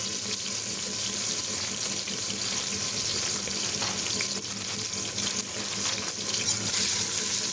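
Tomato sautés in a pan for chicken curry over a medium flame, giving a steady, close hissing sizzle that runs unbroken throughout with no talking.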